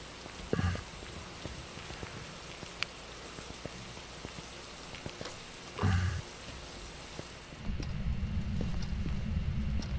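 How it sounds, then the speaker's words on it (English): Steady rain falls across a surface in the Phasmophobia ghost-hunting game, with a few isolated close drips and thumps over the wash and a heavier, denser patter toward the end. "Just had to be raining."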